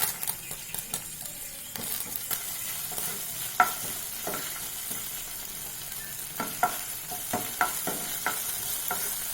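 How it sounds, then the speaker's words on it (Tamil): Lengthwise-sliced garlic fries in oil left over from frying chicken, a close steady sizzle broken by repeated stirring clicks and scrapes of a spoon against the pan. "சிக்கன் வதக்கின எண்ணெயிலேயே நீள வாக்கில் அரிஞ்ச பூண்டு சேர்த்துக்கிறேன்"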